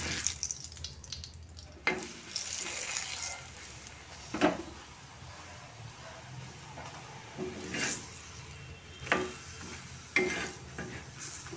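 Roti fries in refined oil on a home stove, with a steady soft sizzle under repeated scraping and clattering of a utensil against the pan, near and moderately loud, with no talking.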